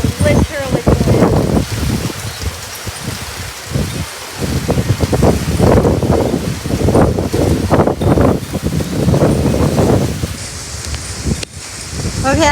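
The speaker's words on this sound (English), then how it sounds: "It is literally pouring." Heavy rain pours steadily during a desert storm in Phoenix, Arizona, a loud, continuous wash with gusty wind noise, while voices talk over it.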